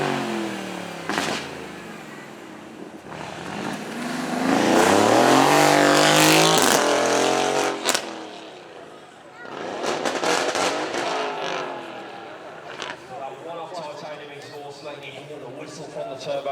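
An Aston Martin supercar at a supercar weekend event roars past with a loud turbocharged engine, building to a peak, fading, then revving again, with a commentator talking over it.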